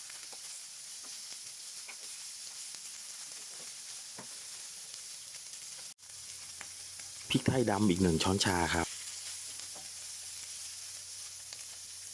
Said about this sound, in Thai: คั่วให้น้ำมันของหมูสามชั้นออกมาเลยนะครับ